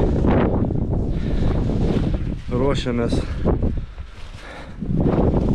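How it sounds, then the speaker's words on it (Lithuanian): Gusty wind buffets the microphone outdoors while a person speaks over it, the rumble swelling and easing. "Neapskaičiavom, kad bus toks vėjas"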